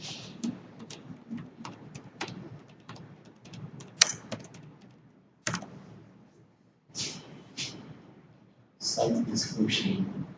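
Clicky computer keyboard keys typed in short bursts while a site name is entered during WordPress site setup, with close, irregular tapping between pauses and a voice talking over parts of it.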